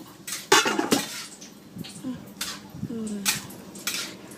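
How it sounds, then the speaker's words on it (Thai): Wild mushrooms being stir-fried in a pan at a home food stall: metal utensil scrapes and clinks against the pan in scattered bursts, with faint sizzling between them and no talk. "แม่กำลังคั่วเห็ดป่าให้กินเห็นกับไอเล่"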